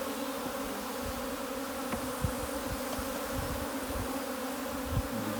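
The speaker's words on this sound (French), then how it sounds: "il y a un essaim qui est revenu dedans" Bumblebees swarming inside a hive box give a steady, dense buzzing hum, close and continuous throughout with no talk.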